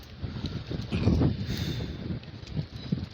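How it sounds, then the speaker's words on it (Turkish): Gusty wind on a seafront promenade buffets the microphone in steady low rumbles, swelling and easing over a few seconds with faint rustling beneath. "hava gerçekten bayağı bir rüzgarlı"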